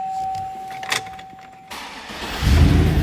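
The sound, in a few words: 2005 Chevrolet SSR engine starting up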